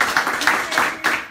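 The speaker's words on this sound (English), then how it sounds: "seriously, round of applause for our veterans." A room of attendees at a live lunch presentation applauds veterans, a short burst of uneven clapping close by, with a voice talking over it.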